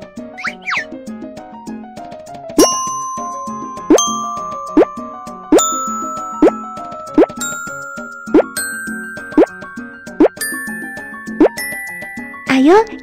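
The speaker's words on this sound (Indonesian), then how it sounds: "Ketuk di sini dan dengarkan suara botol-botol ini." Bottles tapped one after another in a BabyBus children's game ring out as bright, bell-like plinks, about ten evenly spaced notes at different pitches, each fading quickly, over soft background music.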